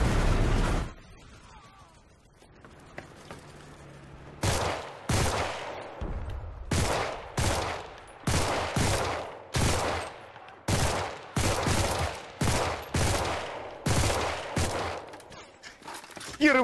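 Gunfire from the video game Enlisted: a long run of loud, sharp shots and short bursts fired at a fairly steady pace, with a quieter stretch at the start before the shooting begins.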